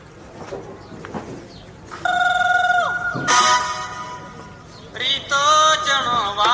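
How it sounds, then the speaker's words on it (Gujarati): A mobile phone rings with an incoming call during a village stage play on voter awareness: a melodic electronic ringtone sounds in two bursts over faint background noise. "અરે આ તો દાદા રમેશ નો ફોન આવે છે. લાવ ફોન ઉપાડવા દે મને."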